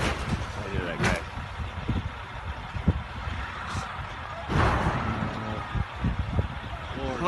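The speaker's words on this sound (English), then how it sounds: "look at this truck coming right in" A truck rolling in through a heavy snowstorm, a continuous rumbling engine and road noise with a few thuds and knocks, people talking anxiously over it.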